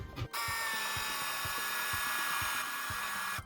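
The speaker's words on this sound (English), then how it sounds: "you have to drill out the rivet" A handheld power drill with a quarter-inch bit bores out a rivet on a Weber Deluxe Performer grill, a close, loud high whine with a steady rhythmic chatter underneath, running continuously between brief pauses at the start and end.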